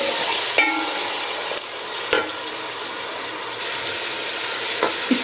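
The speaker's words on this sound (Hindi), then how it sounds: "बाकी सारा मटन हम डाल देंगे। इसे अच्छे से मैं फ्राई कर लूँगी।" Mutton pieces fry for nihari in a hot pan, a steady close sizzle running throughout with occasional stirring scrapes and clinks; no one speaks.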